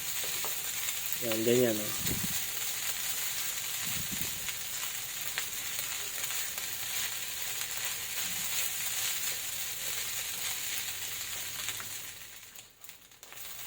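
Garlic soy sauce fried rice stir-frying in a pan with lumps being broken up, a steady loud sizzle with scraping and stirring throughout, while a person speaks briefly near the start.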